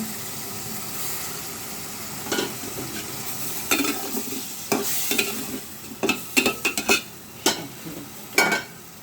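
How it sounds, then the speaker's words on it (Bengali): Shing catfish sautéing in a pan with garlic, a steady frying sizzle broken by sharp scrapes and clatters of a spoon stirring against the metal, growing busier toward the end; no talking. "আমি মাছগুলো দিয়ে দেব। মাছগুলো সুন্দর করে কষতে"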